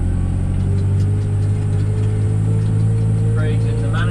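Farm tractor with a jumpy clutch running steadily in a field during round baling, a loud, constant low engine drone close by with a faint higher whine near the end.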